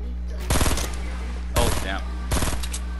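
Rapid automatic gunfire from the Fortnite video game comes in three loud, close bursts of about half a second each, over a steady low game hum.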